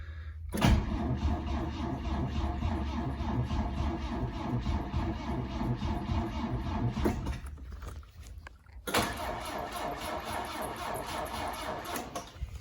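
A 1974 Saab engine cranks on its starter in neutral, a steady rhythmic churning that runs for several seconds, cuts out briefly, then resumes cranking without catching.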